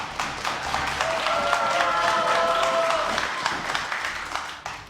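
Crowd at a StarCraft 2 tournament, WCS America 2014, applauding and cheering in a sustained wash of clapping, with a caster talking over it.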